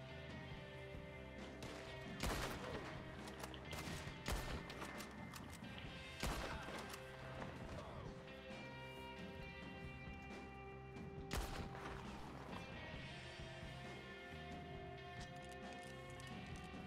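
Several sharp gunshots in Red Dead Redemption II crack out a few seconds apart over a steady bed of in-game music and ambience, with one burst near the end.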